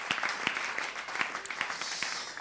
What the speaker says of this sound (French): Oui, applaudissements, allez-y, faites-vous plaisir